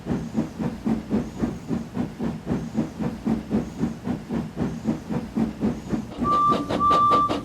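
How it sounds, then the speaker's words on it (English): A steam locomotive in the Trainz train simulator chuffs in a steady rhythm of puffs and hisses, then a sharp whistle blows near the end. "Then the driver pulled the lever and Edward puffed away."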